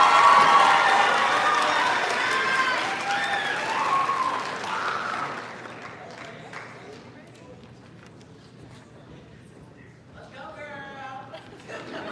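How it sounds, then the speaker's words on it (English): Audience applause at a poetry recitation event, loud and dense at first, then fading out over several seconds, with a voice speaking over the quieter tail. "Let's give Catherine a big round of applause"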